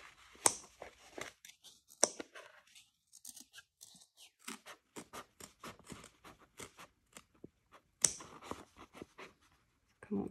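Scissors snipping fabric along stitch lines on a crossbody bag project, a quiet close run of sharp, rapid little cuts in uneven bursts, with a few louder clicks scattered through.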